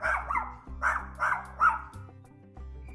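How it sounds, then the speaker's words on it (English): A neighbor's dog barks in four loud, close bursts, each a short cluster of yaps, with gaps between them and a steady low hum throughout. "being startled by a neighbor's barking dog"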